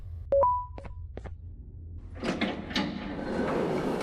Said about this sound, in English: I've heard that door opening sound countless times.